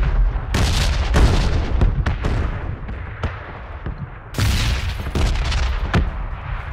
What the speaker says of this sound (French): On va me servir du son des explosions pour rentrer